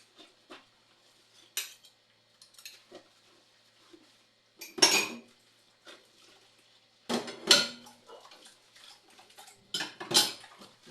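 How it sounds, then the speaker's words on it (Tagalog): Used dishes and cutlery are washed with scattered clinks and clatters of metal against plates, a few louder bursts among quieter taps, close by with gaps of near silence between. "Hugasan mo talaga kinainan."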